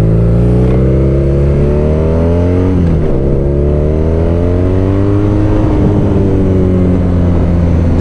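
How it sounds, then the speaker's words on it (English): A loud, close BMW R nineT motorcycle engine revving, its pitch climbing twice with a brief dip between, deep and throaty with a rumbling low end like an old V8. "It also sounds a little bit like an old V8 starting up."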